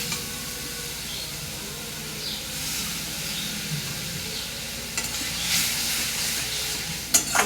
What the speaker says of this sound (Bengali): সেই গরম জলই একটুখানি দেবো, দিয়ে নাড়াচাড়া করব যাতে মশলাটা পুড়ে না যায়